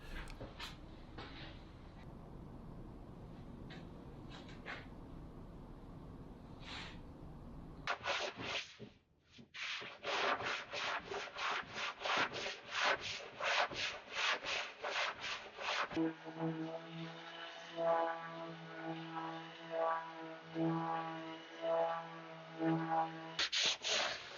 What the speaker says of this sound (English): Then I go to 120 with the hand sander going with the grain.